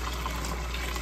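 Hot maple syrup pours steadily into a pan, a continuous close liquid gush with no talk.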